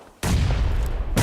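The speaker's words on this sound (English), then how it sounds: "And one of the nades actually connected to Monster IGL." Grenade blast in an esports shooter match, a sudden loud burst of explosive noise that sustains for about a second, with no talk during it.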